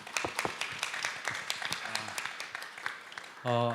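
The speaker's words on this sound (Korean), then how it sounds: "여러분 큰 박수 부탁드리겠습니다." Applause from the audience at a climate and energy summit welcomes the panel, mixed with scattered distinct claps that fade toward the end, when a voice starts speaking.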